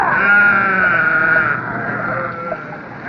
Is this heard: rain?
no